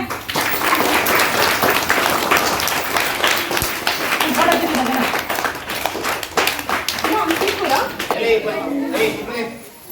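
A group of schoolchildren at a primary-school Independence Day event breaks into lively clapping, dense and continuous close by, with children's voices talking and calling over the applause.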